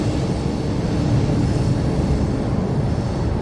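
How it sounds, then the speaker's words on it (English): A CSX M353 freight train running south from Chicago to Cincinnati's Queensgate Yard rolls past close by, a loud continuous rumble of railcars with wheel squeal and no voices. "The symbol for this train is the CSX M353 coming from Chicago, Illinois, heading south to the Queens Gate Yard in Cincinnati,"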